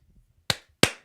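Two sharp hand claps, close and loud, spaced about a third of a second apart against near silence.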